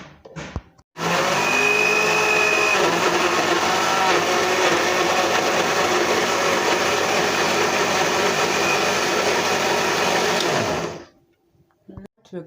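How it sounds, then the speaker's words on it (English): A kitchen blender whirs steadily for about ten seconds while blending tomatoes for soup, a loud continuous motor roar that starts abruptly and cuts off near the end. "we are going to blend our tomatoes"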